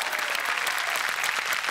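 Steady applause fills the studio from the audience of Chala Hawa Yeu Dya, a Marathi comedy show. The crowd claps densely and at constant loudness for under two seconds, with no voices over it.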